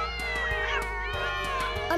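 Cartoon cats meowing, a bunch of cats in a children's animated series, with several overlapping drawn-out, wavering meows in quick succession, loud and close, over light musical backing.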